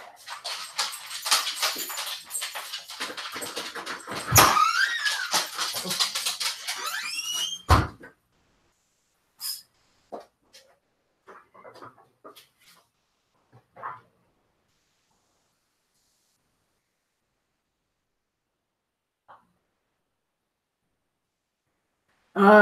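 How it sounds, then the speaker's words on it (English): Dogs bark and whimper at close range in a busy first stretch of about eight seconds, then give a few scattered short yelps and whines before the sound falls almost silent. "Let the dogs out real quick."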